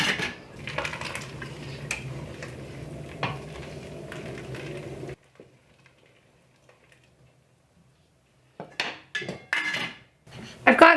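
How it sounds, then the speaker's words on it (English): A masher works through cooked vegetables in a pot, giving soft repeated clanks and squishy thuds against the metal, then a quiet pause before a few more scraping knocks close by. "I'll mash them a little bit with my masher"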